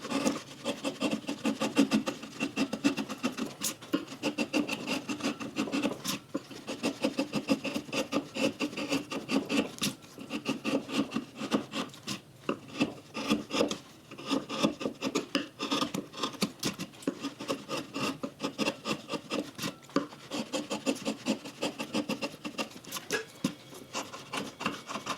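A shallow gouge scrapes and shaves across a wooden lakeshore cabin landscape carving, making a continuous close rasping rub with quick, irregular strokes for about twenty-five seconds, alone with no talk.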